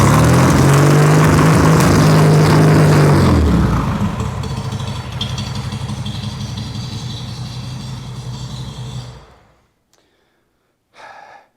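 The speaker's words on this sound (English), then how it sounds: "But when you give it the rev, she craps out again." A 1970 VW Beetle with a 1915cc dual-carb engine roars loudly when revved, then bogs and sputters, its note dropping and fading before the engine cuts out, with a short noise afterward.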